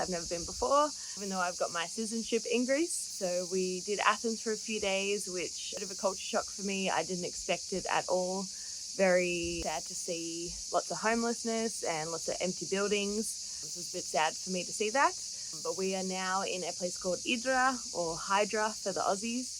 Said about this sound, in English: You can probably hear all the cicadas behind me